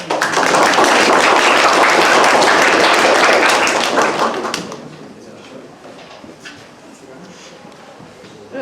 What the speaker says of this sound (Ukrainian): Оплески ще раз, будь ласка.